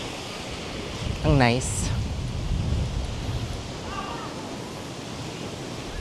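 Steady wind and surf wash along Bulabog Beach on Boracay on a breezy day, a continuous broadband roar with a brief voice speaking over it early on.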